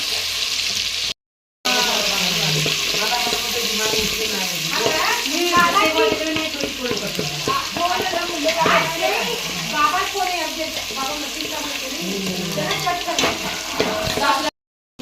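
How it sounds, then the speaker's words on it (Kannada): Ginger garlic paste sizzles in a pan with a steady, moderate hiss and occasional stirring, while a person talks over it almost throughout. "ಶುಂಠಿ ಬೆಳ್ಳುಳ್ಳಿ ಪೇಸ್ಟ್ ಚೆನ್ನಾಗಿ ಫ್ರೈ ಆಗಬೇಕು ನೋಡ್ರಿ"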